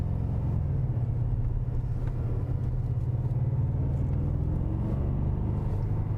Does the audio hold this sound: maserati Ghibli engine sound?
yes